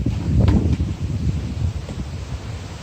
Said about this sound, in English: That's all you can probably hear right now. That's why I'm shouting. It's the wind.